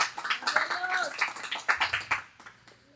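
Congregation hands clapping in a church service, a dense run of sharp claps over about three seconds, fairly close, mixed with voices calling out underneath.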